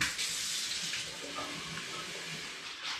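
Hot water is poured into a wok while making chicken biryani, producing a steady splashing pour of running water for about three seconds.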